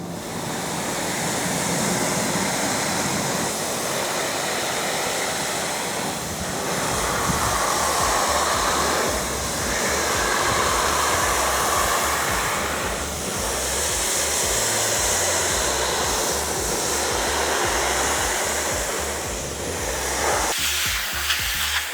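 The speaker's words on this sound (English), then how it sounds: "So now Nick's going to continue and rinse the rest." A vehicle being rinsed with water after an all-purpose citrus cleaner, a loud continuous hissing spray that swells and fades in long sweeps, with a low rumble underneath and no talk.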